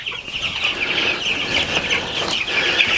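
Chicks in a brooder cheep and cluck continuously at close range, a steady busy chorus of high calls with no talking.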